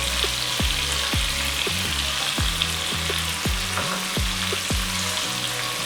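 Diced onion and tomato sizzle loudly in a pan on high heat, with a steady bright frying hiss and repeated soft scraping strokes of a spoon stirring, close by and without speech.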